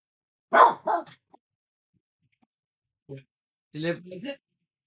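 A few sharp dog barks ring out close by, two quick ones then a pause, followed by a short yelping bark and a growly, voiced bark.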